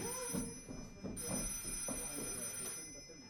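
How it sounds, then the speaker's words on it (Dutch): Telephone bell ringing indoors during a Dutch amateur stage play, repeated rings fairly close over a constant high tone, with no one talking over it. "of dat is die telefoon. Ik pak hem al."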